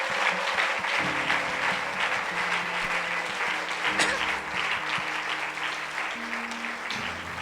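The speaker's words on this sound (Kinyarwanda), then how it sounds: "turakomeye amashyi menshi mu izina rya Yesu Kristo" A church congregation applauds during a service: loud, continuous clapping from many hands fills the room, with a voice faintly underneath.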